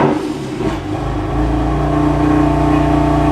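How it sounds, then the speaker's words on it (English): A BMW M4 GTS starting up: a short crank, then the engine catches and settles into a loud, steady rumbling idle close to the microphone, with no talking. "we'll turn on the car"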